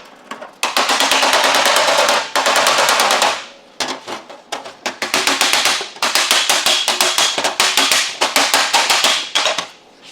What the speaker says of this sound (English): I'll just give this a bit of a gentle tap.